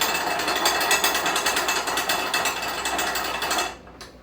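A Sidewinder strap roller winds up a cargo strap with a dense, rapid ratcheting clatter that runs steadily for nearly four seconds, then cuts off abruptly.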